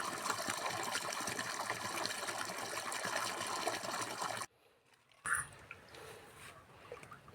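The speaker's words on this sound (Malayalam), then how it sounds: "ഇപ്പോൾ നല്ല ഫോഴ്സിൽ ഇതുപോലെ വെള്ളം വീഴുമ്പോൾ തന്നെ നല്ലതുപോലെ ഓക്സിജനേറ്റഡ് ആയിട്ടാണ് ഇതിലേക്ക് വെള്ളം വന്ന് വീഴുന്നത്" Water falls forcefully into a fish tank holding tilapia fry, a loud continuous gushing splash that cuts out abruptly partway through and leaves quieter, fainter water sounds.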